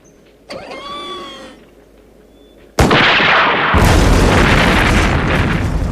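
A loud, close explosion from building demolition at an old research center bursts in after a rising whine and rolls on as a sustained roaring rumble.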